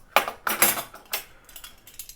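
Metal tablespoons clink and rattle against each other in a few quick bright bursts, close by and with no talking.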